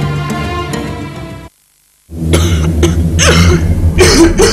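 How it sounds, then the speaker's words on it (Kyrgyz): A dry, persistent cough that irritates the throat: after a brief silence, a series of harsh, close coughing bursts and throat clearing follow, set over a continuous musical background. "Жанды кыйнаган кургак жөтөл."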